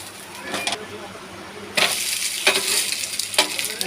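A breakfast flatbread fries in oil on a pan with a close, crackling sizzle that flares into louder bursts at intervals, as when the bread is pressed or turned.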